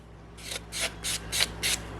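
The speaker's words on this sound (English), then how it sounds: "I'm just gonna take this buffer block and I'm just gonna start to" Acrylic polygel nail surface buffed with a handheld buffer block, giving five short, even rasping strokes in a steady rhythm, close and fairly quiet, with no talking.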